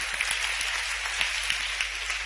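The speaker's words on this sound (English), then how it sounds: "Give a round of applause" An audience claps for a pianist who has just played her first major scale during a music lesson, a brief round of applause with a few sharper claps standing out.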